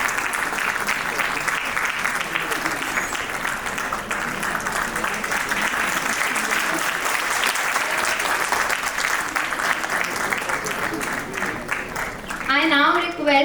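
Sustained applause from an audience at a university alumni meet, a dense, even wash of many hands clapping in a hall for several seconds, tapering near the end as a voice begins to speak.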